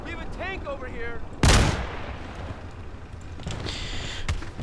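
An XM-25 grenade launcher in a video game fires once with a single loud, sharp blast partway through, under game background noise, preceded by brief voice-like game sounds.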